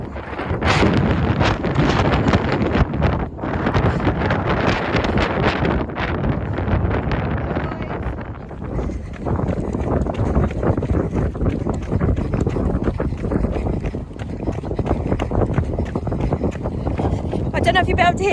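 Strong, continuous wind buffeting the microphone during a marathon training run, a loud roaring rumble throughout with a voice talking underneath.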